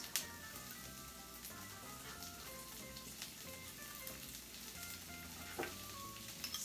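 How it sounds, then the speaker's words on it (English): Ginger and lemongrass frying in warm oil for a catfish curry, a close, continuous sizzle and crackle with occasional stirring clatters, steady and fairly quiet without voices. "now that our oil is nice and warm, we're going to start off with the ginger, the lemongrass,"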